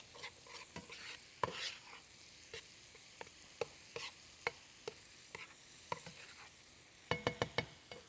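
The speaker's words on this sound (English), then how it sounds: "I'm going to stir that all together just to separate the orzo" A spoon scrapes and taps repeatedly through orzo and a couple of tablespoons of butter in a pan, with a quiet sizzle underneath and a quick burst of clinks near the end.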